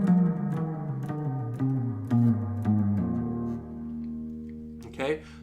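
Guitar phrase played with pull-offs, single notes descending in quick pairs, clean and close, the plucked attacks followed by softer pulled notes before a final brief scrape.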